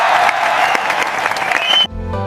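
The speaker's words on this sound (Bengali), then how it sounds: "সব জন্তু হাততালি দিল।" In an animated children's story, cartoon animals clap together in a dense burst of applause that stops abruptly, after which a soft musical tone lingers.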